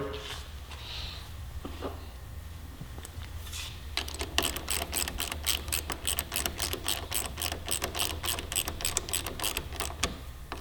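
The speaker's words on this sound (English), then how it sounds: "We'll go ahead and torque this down." A ratchet tightens the brake lever pivot bolt on a Yamaha R3 sportbike. After a few quiet clicks, fast rapid-fire ratcheting runs steadily for about seven seconds, close and loud, with no talk.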